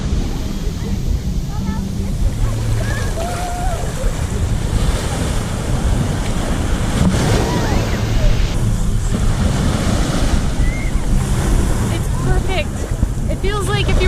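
Ocean waves wash onto a wide beach at Trindade, Rio de Janeiro, Brazil, with a loud continuous surf roar and wind buffeting the microphone, while a voice speaks faintly over it.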